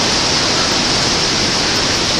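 Hurricane Katrina's wind and rain roar over a soaked backyard as a dense, unbroken hiss, loud and even throughout with no voices.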